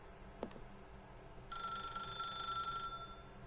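An in-game telephone in The Stanley Parable rings once in a sustained electronic trill after a short click, faint against a quiet hum.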